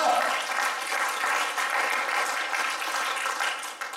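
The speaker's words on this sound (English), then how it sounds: "give the Lord a hand clap of praise and thank him for what he does" A church congregation claps hands in praise, a dense, steady burst of applause that fills the room throughout, with no speech over it.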